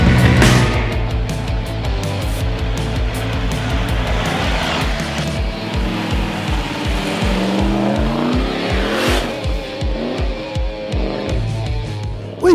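A bright red 5-litre V8 four-wheel-drive truck races through wet Victorian High Country terrain, its engine revving and surging with rising and falling pitch, loud and near, with splashing noise mixed in.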